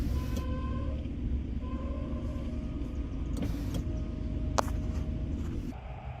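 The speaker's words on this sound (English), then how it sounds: "Truck is having issues." A struggling truck engine rumbles and grinds nearby, with whining tones, clunks and a sharp squeal partway through, out in the open beside gravel.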